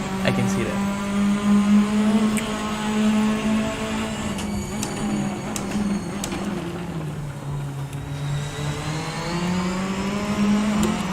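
A race car engine in a racing video game holds a steady, loud drone, with pitch dipping and rising through corners as the car brakes and understeers, running continuously under someone talking.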